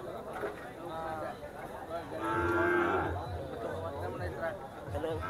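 A young water buffalo (carabao) at the Bacong livestock market gives a long, drawn-out moo that rises over close chatter and crowd murmur, with people talking throughout.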